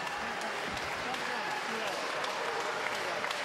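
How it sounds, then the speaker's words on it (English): Boxing crowd applauding at the end of a hard-fought bout between Sergey Rabchenko and Bradley Pryce, a dense continuous clatter of clapping at a steady level, with a commentator's voice talking faintly underneath. "generous applause"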